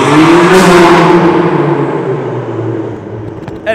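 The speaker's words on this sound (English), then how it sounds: "We got a car going by." A car passes close by loudly, its engine and tyre roar sweeping past and fading away over a few seconds, with no talking.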